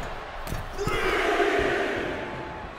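A WrestleMania 39 arena crowd roars and cheers throughout the Cody Rhodes vs. Jey Uso WWE Championship match, a loud, sustained wash of voices with a few sharp thuds near the start.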